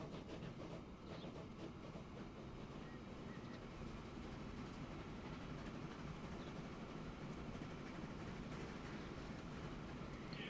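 A train in the video game Transport Fever 2 rolls along the track in a steady, low rumble that stays even and fairly quiet throughout, with no speech over it.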